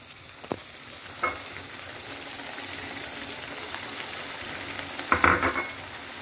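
Tomatoes and green chilies frying in shrimp oil for a fern stir-fry, a steady moderate sizzle with a few sharp spatula taps and stirring scrapes, close and without talk.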